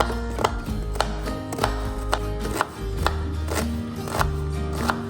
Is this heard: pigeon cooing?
no